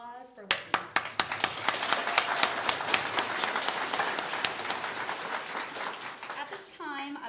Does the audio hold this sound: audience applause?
yes